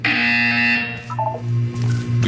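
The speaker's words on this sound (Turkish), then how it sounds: "You will hear a buzzer." A loud electronic buzzer from the video game Portal 2, a single sustained harsh tone that holds for about a second and then fades into lower background hum.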